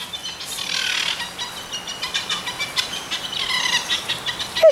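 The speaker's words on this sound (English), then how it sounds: "These baby turkeys are saying to the mother" High-pitched chirping calls from baby turkeys repeat in short, busy bursts, moderately loud with no voices, like a cluster of young birds peeping together.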